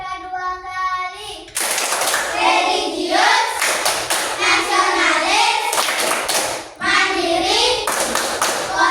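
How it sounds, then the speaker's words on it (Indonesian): A class of children claps in a steady rhythm while chanting together in unison for an Indonesian PPK clap routine led by a classmate. Repeated bursts of claps and voices are close and loud after a brief quieter opening. "Dewi memimpin temannya untuk melakukan tepuk PPK. Ya. Tepuk PPK 2 kali."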